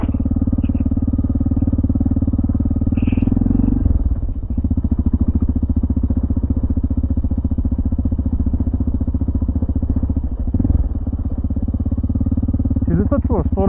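A motorcycle engine drones steadily and close while riding over a rocky mountain pass, with a few brief surges and dips in pitch. Voices talk over it at times.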